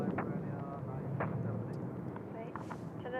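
Boeing 747 airliner on its takeoff roll at Seoul Incheon Airport, a broad distant jet engine roar rumbling steadily beneath someone talking.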